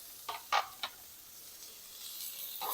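Onions hit a very hot pan for mole sauce, giving a few quick crackling bursts followed by a soft, steady sizzle that builds gently toward the end.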